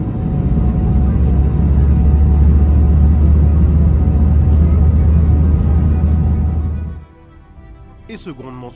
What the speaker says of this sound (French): ce grondement soudain,